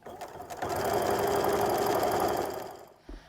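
A sewing machine runs in one steady burst, stitching quilt seams on a diamond star quilt, its rapid even whir rising quickly, holding for about two seconds, then winding down, close and clear.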